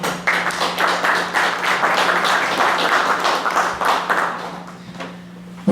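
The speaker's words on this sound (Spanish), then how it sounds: "Un aplauso, por favor." An audience applauds in a hall at a tribute evening, a steady burst of many hands clapping for about five seconds before fading out.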